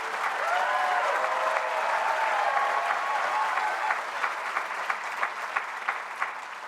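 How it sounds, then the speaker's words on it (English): Applause from a crowd at a White Coat Ceremony for the class of 2029, sustained clapping that thins toward the end into a few distinct claps, with a faint voice briefly audible early on. "Let's give a round of applause especially to the class of 2029"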